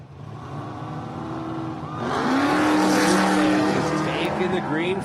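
Custom-built off-road race vehicle taking the green flag at the San Felipe 250 desert race, its engine swelling from a low rumble into a loud, close roar as it accelerates away, with an announcer talking over the noise.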